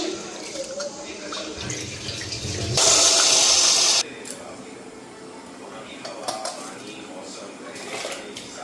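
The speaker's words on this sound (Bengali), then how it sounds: "তো চালটা এদিকে ধুয়ে নিতেছি।" Rice being washed by hand in water in a home kitchen, with a loud burst of running tap water in the middle amid soft sloshing and clinking of a pot.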